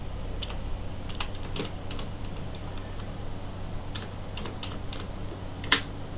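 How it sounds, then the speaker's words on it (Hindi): Scattered keystrokes on a computer keyboard tap out an entry in a spreadsheet, sparse and fairly soft clicks over a steady low room hum. "इस प्रकार से आप यहाँ पर टाइप कर देंगे"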